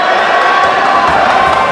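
A home crowd at a high school basketball game between Herriman and Copperhills yells and cheers to put off a shooter. The roar is loud, dense and sustained, with shouts and whoops mixed in.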